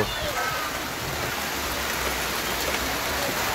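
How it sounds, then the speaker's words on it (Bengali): Heavy rain pours down in a dense, even roar of drops hitting surfaces, loud and continuous throughout the short stretch, with no break in the downpour. "দেখতে পাচ্ছেন বৃষ্টি হচ্ছে মুষলধারে"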